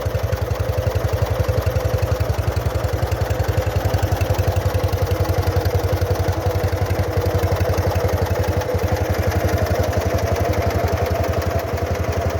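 A KhTZ 012 mini tractor engine runs steadily close by, a loud rhythmic mechanical chugging with clattering pulses, continuous and unchanging for the whole stretch with no voices.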